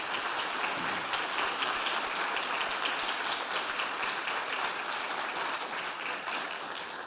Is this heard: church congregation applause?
yes